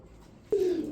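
A single short coo from an Agaran tumbler pigeon, close and fairly loud against quiet background hiss.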